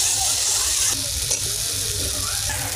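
Potatoes go into a frying paste of ground green chilli, dried chilli, salt and turmeric, producing a steady close sizzle and hiss with light stirring, no talk.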